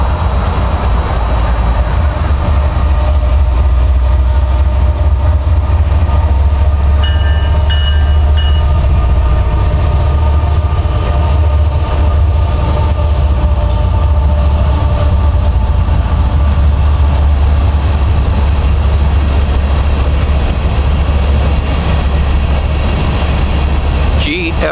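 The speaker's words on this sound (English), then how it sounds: "One of CSX's newest is heading up N170, headed north back to the coal fields." A heavy CSX coal freight train with hopper cars rumbles past continuously, with a deep low roar, steady rolling clatter of cars and faint squeals, loud and close throughout.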